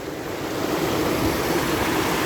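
Water pours down a waterfall on a hiking trail, a steady full roar of rushing, splashing water that holds even and close from start to finish, with no voices.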